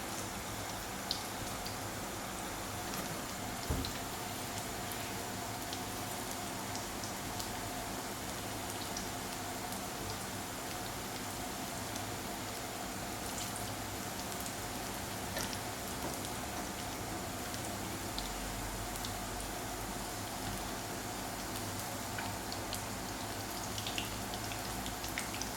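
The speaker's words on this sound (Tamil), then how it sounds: "பாவக்காய் இப்போ நம்ம எண்ணெயில் ஃப்ரை பண்ணி எடுத்துடலாம்" Bitter gourd fritters dipped in batter deep frying in hot oil, a dense continuous crackle and sizzle with scattered pops, steady throughout and with no talk.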